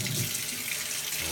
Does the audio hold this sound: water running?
yes